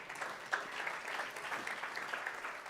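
Brief, fairly faint applause from a church audience, an even patter of clapping heard from a little distance.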